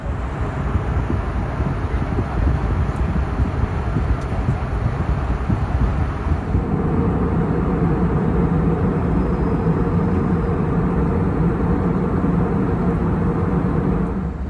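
Steady broadband roar fills the cabin of an Icelandair Airbus A321 in flight, constant and loud, with a slight shift in tone midway and no voices.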